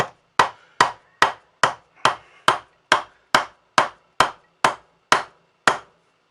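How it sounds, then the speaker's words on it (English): Light hammer taps on a part of a 1987 Honda CR250 motorcycle: fourteen evenly spaced, sharp metallic knocks about half a second apart, close and clear, with nothing else around them. "I'm only slightly tapping."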